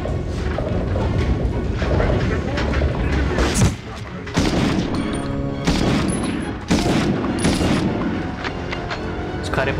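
Gunfire in the PlayStation 1 game Medal of Honor, with loud bursts of shots and heavy booming impacts in several clusters, a brief dip near the middle, and a voice talking over the battle.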